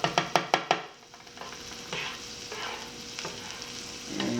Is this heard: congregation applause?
no